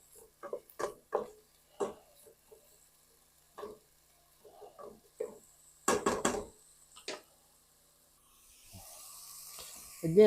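Meat sauce browns on a gas stove with faint, intermittent sizzling and a few sharp clinks and scrapes of stirring, quiet and close, with a soft hiss building at the end.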